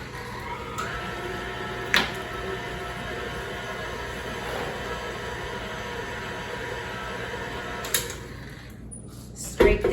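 A mixer whirs steadily through oatmeal cookie dough as flour mixture is added, a continuous even motor hum with a couple of sharp clicks and a brief easing near the end.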